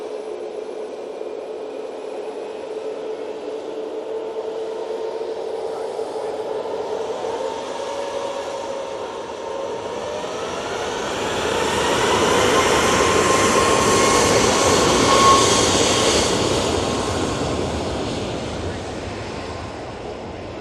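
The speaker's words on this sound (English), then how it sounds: "this RyanAir is off to Tenerife using the 737 MAX 8 for this flight." A Ryanair Boeing 737 MAX 8 departs Manchester Airport bound for Tenerife, a broad jet roar that builds and swells toward the middle as the aircraft passes, heard from outdoors at moderate distance.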